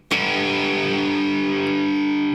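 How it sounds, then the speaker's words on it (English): A loud distorted electric guitar power chord is struck once and rings out, sustained and buzzing with heavy overdrive until the end. "That is a power chord."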